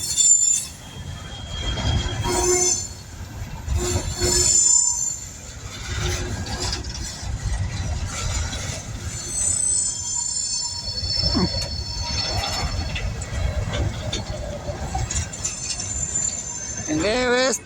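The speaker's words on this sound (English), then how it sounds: "The train goes across the bridge onto the main." A long coal train crosses a bridge at Mount Hope, West Virginia, with steady rolling rumble, clanking cars and high metallic wheel squeals rising throughout. Voices talk intermittently over it.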